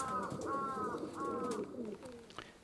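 Pigeons returning from a flight coo softly in a few repeated, rolling calls, faint and nearby, with light outdoor background noise.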